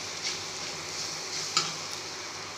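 Boiled, peeled and mashed potato being stirred in a pan for aloo chokha, a soft steady scraping with faint sizzle and a couple of brief clinks, close and continuous with no talk.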